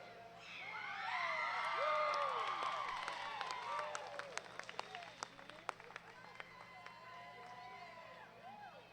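An audience at a junior livestock show, market lamb showmanship, cheers and shouts with scattered claps, the crowd noise swelling early and then thinning into sharp individual claps under a loud announcer's voice.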